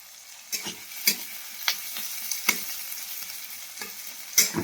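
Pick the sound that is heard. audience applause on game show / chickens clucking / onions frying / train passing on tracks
onions frying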